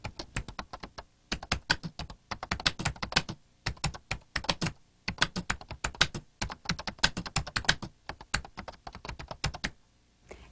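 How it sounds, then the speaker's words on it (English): Brisk typing on a computer keyboard, rapid clustered keystrokes in bursts separated by short pauses, close and clear with no voices. "We continue by typing"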